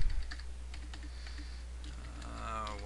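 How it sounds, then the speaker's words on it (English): Quick bursts of typing on a computer keyboard, irregular clicking keystrokes close by over a low background hum, with a faint voice briefly present. "I'll quickly type in at least the first line of my address"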